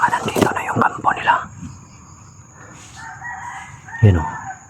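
Rooster crowing sounds from somewhere ahead in rural terrain, following a burst of nearby talk, with a drawn-out fainter crow and then a louder one over low background noise.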